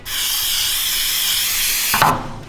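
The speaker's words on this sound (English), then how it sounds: "it needs to spray that way to get all the chemical out of it" An aerosol spray can sprays chemical cleaner onto the forks and shocks of a Coleman B200RSV minibike, a loud, steady close-up hiss lasting about two seconds before cutting off with a brief clatter.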